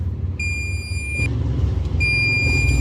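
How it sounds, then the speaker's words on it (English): A torque wrench set to 38 foot-pounds on an axle job gives two long, steady electronic beeps with a short gap between them, heard over a low background rumble. "It's gonna beep when it gets to that 38 foot-pounds."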